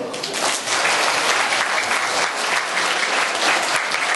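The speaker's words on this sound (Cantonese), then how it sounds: "而家我哋以熱烈嘅掌聲，多謝咁多年教導我哋嘅老師" A crowd at a Form 5 graduation dinner gives warm applause to thank the teachers, a thick continuous wash of clapping from many hands that stays loud and even throughout.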